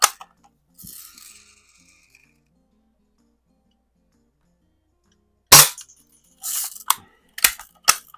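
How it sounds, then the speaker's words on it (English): A repaired 1930s Daisy King BB gun fires at a can, giving a sharp crack at the start, then a long silence before a quick cluster of snappy shots and metallic pings near the end. "it's shooting really good. This one is definitely going through the can."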